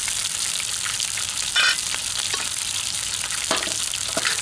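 Lamb kidney pieces fry in a hot pan with a steady, close sizzle and crackle throughout, a few brief sharper pops and spatters rising above it, with no talking.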